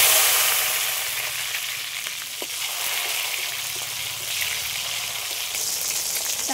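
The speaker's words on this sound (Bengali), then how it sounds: "আর দুটো তেজপাতা তেলের উপরে দিয়ে দিচ্ছি। এগুলো একটু হালকা করে ভেজে নেব।" Bay leaves and chopped tomato fry in oil with a loud, continuous sizzle and hiss, louder at the start and then steady, with faint stirring scrapes and no talking.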